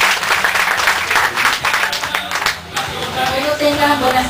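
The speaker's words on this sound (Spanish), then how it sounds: "Vamos a recibirle con un fuerte aplauso" A crowd at a municipal avenue inauguration breaks into strong applause, a dense wash of clapping that eases off partway through and gives way to a voice as talk begins near the end.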